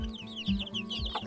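Chickens cluck in short repeated bursts close by, a hen with chicks fed on corn, several choppy calls in quick succession without any talk.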